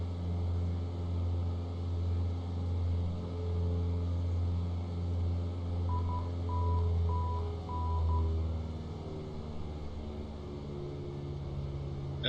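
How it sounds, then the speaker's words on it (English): Morse-style identifier beeps of an ILS navigation frequency inside a light aircraft cockpit, a short series of evenly spaced tones over a steady loud engine drone. "let's listen to the ILS frequency"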